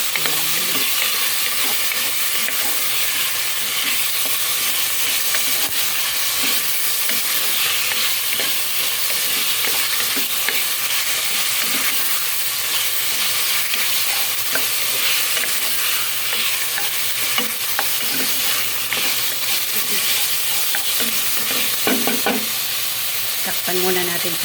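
Native chicken for arroz caldo sizzles loudly in a pot while being stirred, a dense continuous hiss and crackle with scraping of the spoon throughout.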